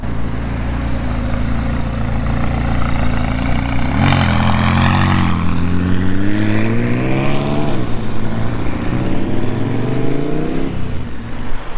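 A McLaren 570 supercar pulls away at a gathering of supercars in Perpignan, its loud engine idling steadily before rising sharply through revving gear pulls, close and dominant with no talking.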